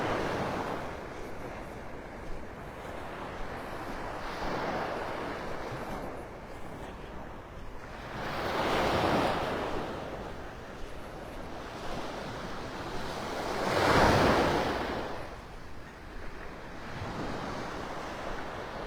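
Ocean surf rolls onto the beach at Delnor-Wiggins in North Naples, Florida, with waves breaking in slow surges every few seconds, swelling loudest around the middle and later crests, with a soft wind hiss underneath and no voices.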